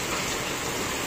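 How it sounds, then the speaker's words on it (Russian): Heavy rain falls during a thunderstorm, a dense, even hiss of drops on surfaces that stays constant through the short clip. "Дождь пошел еще сильнее."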